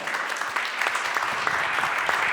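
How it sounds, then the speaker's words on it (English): Crowd applause at a bartender competition stage event, even clapping from a live audience at a moderate level that carries steadily without a break. "one more round of applause for Zong Hong from Montreal"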